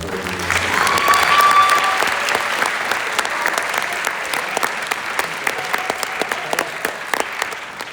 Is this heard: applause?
yes